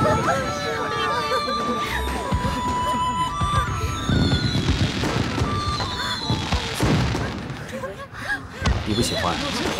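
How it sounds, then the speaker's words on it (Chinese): Fireworks burst in repeated thumps and crackles over an evening celebration, mixed with background voices and a steady hum of activity. "这烟花虽好，也是热闹"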